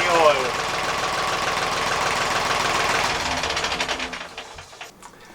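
A narrowboat engine runs with a steady mechanical chugging, then is shut off, its rhythmic thumps slowing and fading out over the last seconds.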